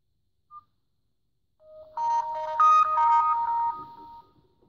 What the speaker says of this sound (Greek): Ήχος ειδοποίησης.